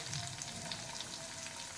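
Asafoetida and raisins sizzling in hot oil in a pan for batata poha, a soft steady hiss and crackle, faint and close, no talking.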